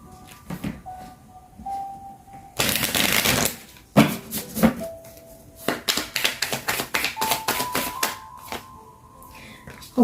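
Love Oracle tarot cards are shuffled in a series of crisp, riffling bursts and taps, some long rushing ruffles and some quick flicks, close to the microphone with brief pauses between.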